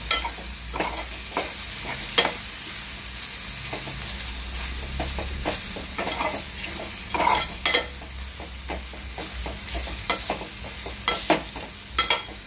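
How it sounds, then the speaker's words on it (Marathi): Red chili masala frying in a pan for a val bean curry, stirred often, gives a steady close sizzle broken by repeated scraping strokes of the spoon, with no talking. "आता मी लाल मसाला टाकत आहे, तिखट, आता भाजण्यासाठी ठेवले"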